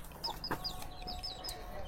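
Chickens cluck at a rural tribal household in Birbhum, with a few short, fairly close clucks scattered over a steady low background.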